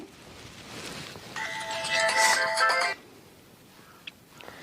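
A phone rings with a bright, repeating electronic tone for about a second and a half before cutting off, over faint background noise.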